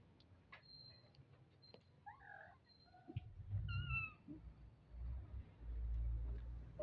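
A stray cat gives a few soft, quiet meows at a distance, heard faintly over low background rumble.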